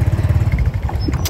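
A motorbike engine drones steadily while riding, loud and close with a pulsing low rumble throughout, on a foggy mountain road trip to Tà Xùa.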